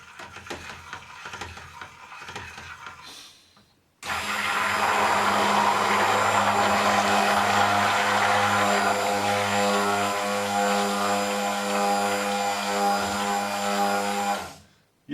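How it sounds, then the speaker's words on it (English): A stick blender whirs steadily in a saucepan of thickening soap mixture, starting abruptly after some quieter handling noise and running loud and constant for about ten seconds before cutting off. "it's harder to move the stick blender around, so it's thickening up"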